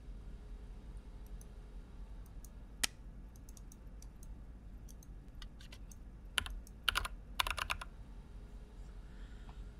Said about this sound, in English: That's the sound of the computer.